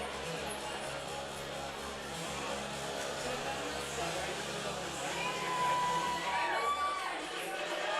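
A crowd at an amateur fight cheers and murmurs between rounds, a steady wash of voices with scattered whoops, while an announcer talks over it.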